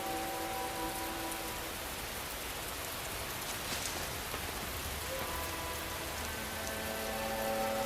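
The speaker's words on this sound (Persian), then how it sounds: "به یمن قدوم فرزند شما باران به فدان می‌بارد" Rain falls in a steady, even wash of patter throughout, with faint tonal hums in the background and no speech.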